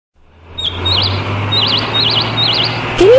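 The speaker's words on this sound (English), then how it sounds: "So many birds on that tree." Several birds chirp and tweet from a tree in repeated short whistled calls, fairly clear over a steady low outdoor hum, with a brief rising whistle near the end.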